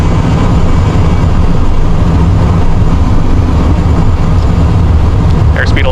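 Cessna Citation jet engines at takeoff power roar steadily and loudly at close range throughout, a dense broadband rumble from a cockpit view during the takeoff roll, with faint cockpit callouts layered under it.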